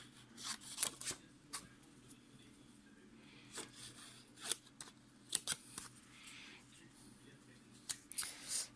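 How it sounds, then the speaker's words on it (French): Scissors roughly cutting out paper Christmas card pieces, a series of faint close snips and paper rustles in irregular bursts against a quiet background. "je vais juste les découper grossièrement pour voir un peu le positionnement que je peux faire"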